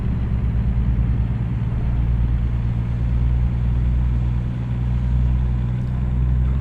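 A truck engine running through a gear change on an Eaton Fuller 10-speed transmission, a loud, steady low rumble with slight dips in drone as the shift happens, no voices.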